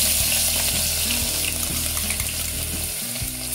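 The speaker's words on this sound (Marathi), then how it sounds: "जिरं तडतडलं की त्याचबरोबर आपण लसूण ऍड करूया" Cumin seeds crackle and sizzle in hot oil for khichdi, then garlic is added, bringing a steady loud fry with regular spoon scrapes against the pan.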